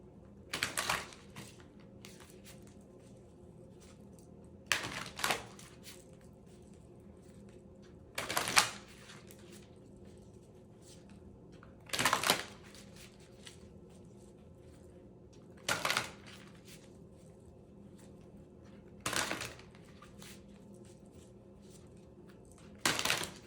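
Tarot cards shuffled and drawn during a reading: brief crisp riffling and slapping card bursts repeat roughly every three to four seconds against a quiet room background, with no talk.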